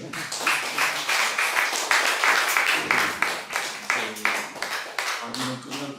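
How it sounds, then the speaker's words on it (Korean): Conference audience at a North Korea mission gathering gives a pastor a big round of applause, loud, dense clapping throughout with individual claps standing out, easing slightly near the end. "다시 우리 11모 목사님한테 다시 한번 큰 박수 한번 다시 할까요?"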